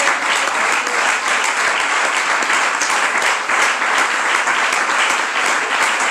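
A church congregation claps for Christ at a worship service, a dense, steady roar of many hands filling the room loudly and continuously with no voices standing out.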